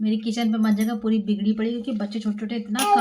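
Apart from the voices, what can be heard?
None of the usual background noises is heard.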